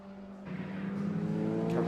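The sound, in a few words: race cars including Honda Civic and Ford Sierra RS500 Cosworth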